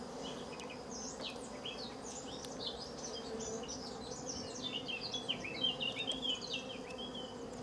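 Honeybees buzzing steadily in an opened Warré hive before any smoke is used, a dense, calm hum with many individual bees darting close by and rising and falling throughout.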